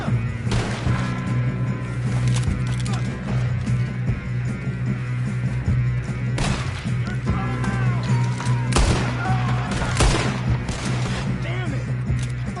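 Gunshots and heavy booms ring out during a Red Dead Redemption 2 firefight, scattered loud reports over a steady low hum, with characters talking throughout.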